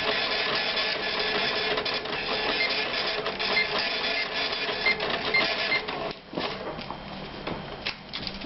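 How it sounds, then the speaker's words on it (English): A library printer running steadily for several seconds as it prints out a hold slip, a continuous mechanical whir with small clicks, fairly close and alone, easing slightly toward the end. "the printer prints out the slip for that if it's for our patron"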